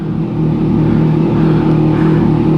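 A motorcycle engine on a wheelie machine runs at startup indoors, giving a loud, steady, close-up rumble that holds at a low idle-like drone throughout, without any clear rev spikes.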